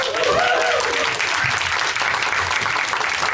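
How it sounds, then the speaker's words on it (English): Audience at a B2B SaaS sales talk applauds the incoming speaker, a full, steady round of clapping with a brief whoop or voice over it early on. "Big round of applause for Tia."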